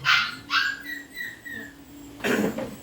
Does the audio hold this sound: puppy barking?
yes